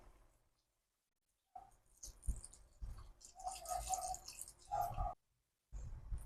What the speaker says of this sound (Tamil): இப்போ இந்த தேங்காய் பாலை இதோட சேர்த்துடலாம்